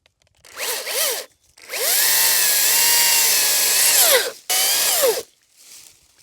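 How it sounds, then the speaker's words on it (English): A battery-powered electric chainsaw whines up in short bursts outdoors, then holds a long, loud, steady high-pitched run of about two seconds before dropping and giving one more brief burst, the motor pitch sagging slightly under load. "my electric chainsaw, battery-powered chainsaw out here now and not my gas-powered one"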